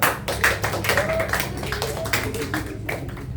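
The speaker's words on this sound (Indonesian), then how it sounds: "Tepuk tangan semuanya." Children at a Sunday school gathering held in a home clapping together in a loose, uneven rhythm of taps, moderately close, with some murmured voices underneath.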